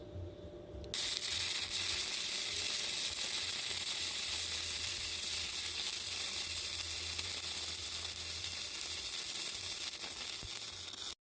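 A Yeswelder YWM-160 MIG welder with .035 wire runs a bead on a gappy joint, a loud, steady crackling sizzle that starts abruptly after a second and continues unbroken up close.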